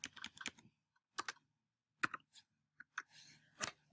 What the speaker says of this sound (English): I'm just going to type in custom text.